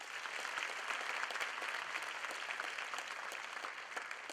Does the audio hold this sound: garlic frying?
no